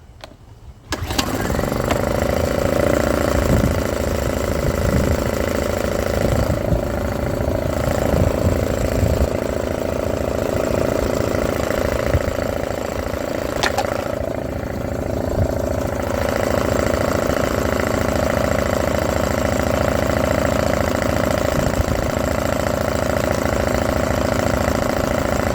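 A Honda EU2000 generator with a no-spark fault starts after a short pull and then runs steadily, its engine humming loud and close for the rest of the stretch.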